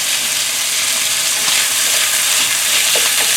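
Ginger and garlic stir-fry in a hot pan for pork and giant yellow bean sprouts, giving a loud, steady, close sizzle with a few faint scrapes and no talk.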